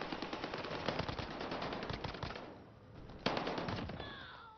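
Dense, rapid machine-gun fire rattles almost nonstop in Call of Duty: Warzone, loud and close, dipping briefly before another sharp burst of shots erupts.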